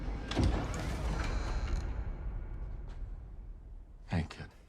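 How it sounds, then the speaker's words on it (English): A door in a house slides open in a TV show scene, with a rumbling scrape followed by a quieter stretch and a sharp knock near the end. Voices and other sounds from the scene can be heard underneath. "then, the door opens"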